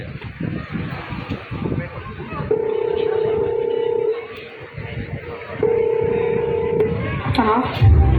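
A telephone tone sounds in two sustained beeps while placing a call, heard over noisy background chatter and wind on the microphone.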